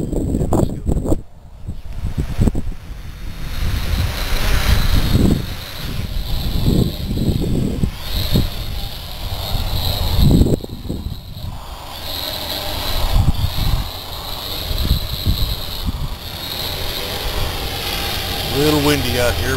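A WM450HW multirotor drone is armed and flown outdoors on a windy day; its motors give a steady whirring buzz throughout, mixed with gusting wind noise.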